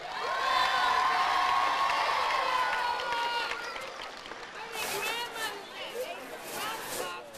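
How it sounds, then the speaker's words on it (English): Crowd at a Head Start preschool graduation applauding and cheering for the graduating children, a broad, steady wash of clapping with shouts and babble, loud and sustained throughout. "I want you to give a big round of applause to all these beautiful babies out here in these rows"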